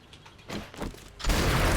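A shotgun fires at a zombie in the game 7 Days to Die: soft mechanical clatter, then one loud, close blast that fills the end of the clip.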